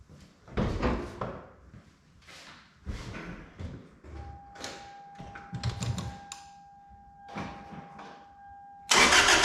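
A Toyota 2ZZ-GE engine fresh from a cylinder head overhaul cranks with several bursts, then settles into a steady idle with a high tonal whine, and a sudden loud broadband roar at the end.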